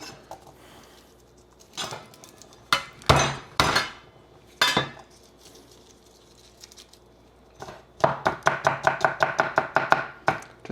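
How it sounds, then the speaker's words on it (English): A knife roughly chopping red chilies and garlic on a board, scattered heavy thuds at first, then a fast run of a dozen crisp, close chops. "Just give it a rough chop"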